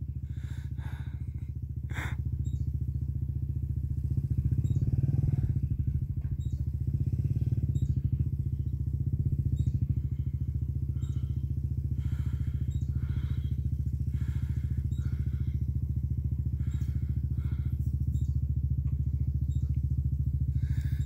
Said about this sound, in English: The bike's just gonna stop.